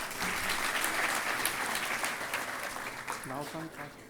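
Audience applause at a youth convention inauguration, a dense burst of clapping from a crowd that swells and then fades, with a voice speaking over its tail.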